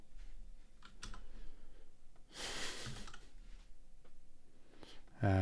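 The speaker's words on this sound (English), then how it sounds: "What am I even typing up here? Just typing nonsense." Keys clatter on a computer keyboard in quiet, irregular bursts of clicks, with one louder rustle in the middle, close and faint.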